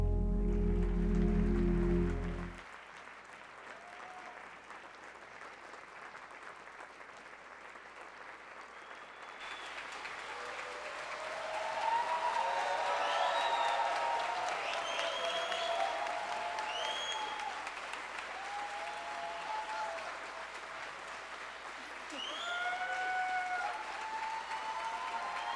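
An audience at an honoring event claps to welcome Sasha Troufanov and Sapir Cohen, sustained applause that swells and holds steady with scattered cheers, following a brief loud sound at the start.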